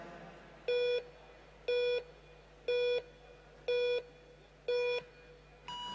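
Countdown warning beeps sound at a track cycling velodrome during the UCI Track Cycling World Cup in Manchester, five clear, evenly spaced electronic tones about a second apart, with a sixth starting at the end, over a faint steady hum.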